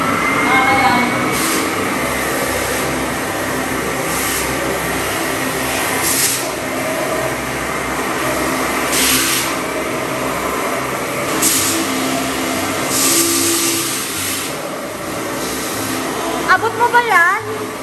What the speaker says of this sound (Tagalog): Taga-vacuum